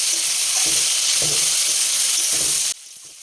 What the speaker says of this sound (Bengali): এই যে পেঁয়াজটা দিয়ে দিলাম এবার ভালো করে ভেজে নেবো